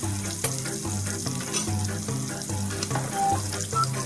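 Sweetfish crisping in a covered frying pan, a steady, faint sizzle and crackle of hot oil with a few sharp pops, heard alone with no voices.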